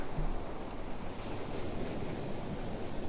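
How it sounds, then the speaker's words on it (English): Ocean surf rolls onto a Myrtle Beach shore in March, a steady broadband wash of breaking waves mixed with wind noise, with no voices. "There's some good waves rolling in."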